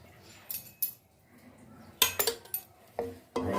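A spoon stirs okra curry in a pan in short bursts of metallic scraping and clinking, close and sharp, with quiet gaps between the strokes.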